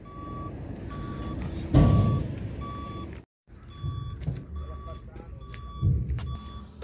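A truck backs slowly while its reversing alarm repeats steady, evenly spaced beeps over a low engine rumble, with brief louder bursts of engine noise and a short gap midway.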